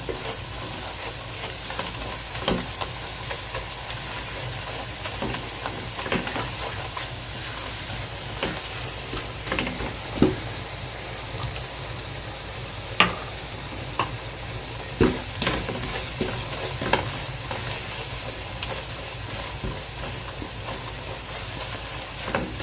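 Spices being dry-roasted on a hot tawa for a dhaba-style mutton liver (kaleji) dish, with a steady sizzle and frying hiss broken by scattered scrapes and clicks of a spatula stirring, close and continuous, with no voices.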